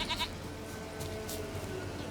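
Goat bleating in The Witcher 3 video game, a couple of short nasal bleats early on over a steady game soundscape, fairly quiet and without speech.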